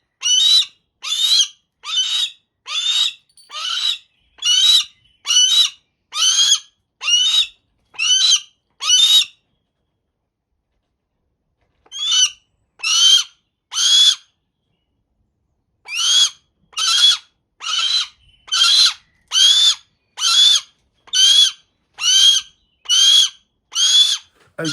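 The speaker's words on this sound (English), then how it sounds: "he's a Harris hawk. They're the #1 problem bird for making a noise." A young Harris hawk kept for falconry calls loudly and insistently, a long series of sharp, evenly spaced screeching cries, close and clear, broken by a brief pause before the calls resume.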